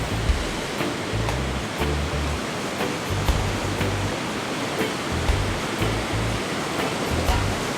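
Ocean surf during a surfing session roars as steady, loud broadband wash, with wind buffeting and low thumps from the water throughout.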